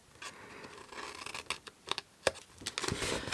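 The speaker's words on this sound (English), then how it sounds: "And then just cut all of these." Scissors snipping through a paper gift bag, a run of quick, crisp cuts and rustles with irregular spacing, close and fairly quiet, with no voices.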